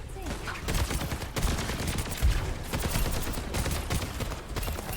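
Soldier 76's rifle fire in the Overwatch video game, aimed at distant enemies: rapid, sustained bursts of gunshots rattle off in quick succession, loud and close, with brief pauses between volleys.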